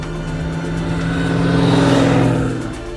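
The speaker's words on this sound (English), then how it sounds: "Built with an amazing LS supercharged V8 engine, it certainly roars like a muscle car" A 25th anniversary edition Range Rover Classic fitted with a supercharged LS V8 revs loudly up close, its deep roar swelling through the middle and easing off at the end.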